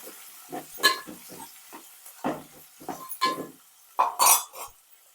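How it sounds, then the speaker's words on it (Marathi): Onion, kokum and curry leaves are sautéed in a pan for a Konkani mackerel tikhla, giving irregular clinks and scrapes of a utensil against the pan over a low hiss of frying, with no talking. "कांदो कोकम आणि कढीपत्ता चांगला भाजून घ्या"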